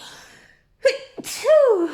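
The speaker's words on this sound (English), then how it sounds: "I need to sneeze" A single close, loud sneeze with a sharp intake of breath before the explosive burst, followed by a short trailing vocal sound.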